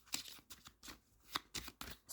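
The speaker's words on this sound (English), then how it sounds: "I'll give them a good shuffle" Tarot cards are shuffled close by in quick, crisp riffles and soft slaps, several bursts in a row with short pauses, with no voices.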